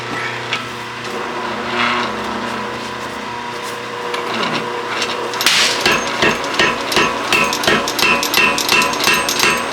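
Heavy hammer blows ring out on hot wrought iron as a Viking seax blade is drawn out at the forge, starting with scattered strikes and then settling into a steady, loud, close rhythm of metallic impacts.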